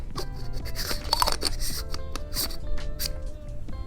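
Timemore C2 coffee hand grinder chamber being attached, a run of close scraping, clicking and rubbing contacts of metal and plastic parts, with a few sharper clinks over faint background music.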